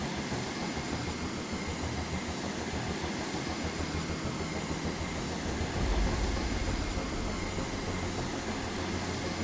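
Aircraft engines in the naval strategy game Carrier Command 2 drone in a loud, steady roar, with a heavier rumbling swell rising briefly midway before settling back to the constant engine noise.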